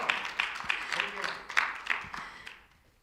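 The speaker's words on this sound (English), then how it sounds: "let's give him another big round of applause" Audience at a healthy ageing talk claps for the presenter, a scattered, moderately close burst of individual hand claps that thins and fades out toward the end.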